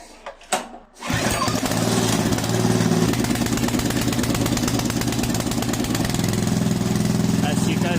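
A small engine fitted with a tachometer is started after a couple of pull attempts and then runs loudly and steadily nearby, a continuous buzzing drone that holds for the rest of the moment.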